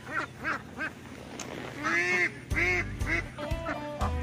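Several ducks on a duck farm quack repeatedly nearby, their harsh calls overlapping in uneven bursts over a low background hum.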